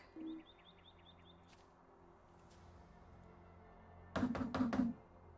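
Several quick knocks on a public outhouse door in the fantasy game Lord of the Rings Online, a tight cluster of solid raps near the end, preceded by faint bird-like chirps and quiet ambience.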